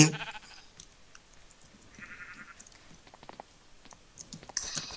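Short sheep bleats in the game Sheep Quest, heard between clicks and light tapping, with a louder burst of sound at the start and end.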